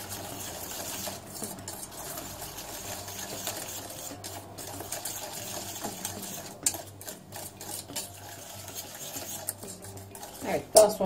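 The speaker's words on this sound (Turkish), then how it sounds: "1 su bardağı sütümü ilave ettim. Şöyle güzelce karıştıracağım." Whisking milk into cocoa powder in a pot for homemade chocolate sauce, a steady soft scraping and swishing that runs throughout, with faint clinks of utensil against the pot near the end.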